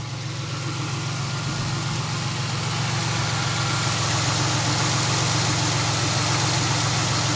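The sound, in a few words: car engine running with misfire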